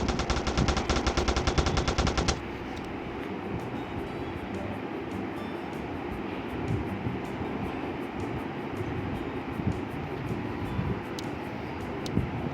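In a gangster crime video game, a loud burst of rapid machine-gun fire opens for about two seconds, then gives way to a steady rumbling background with occasional faint pops.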